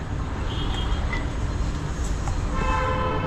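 A train rumbles steadily past at close range, its horn sounding with sustained tones toward the end over the continuous roar of wheels and carriages.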